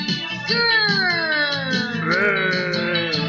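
A voice imitates a big black bear with a low, drawn-out growling moan that wavers in pitch, close and sustained.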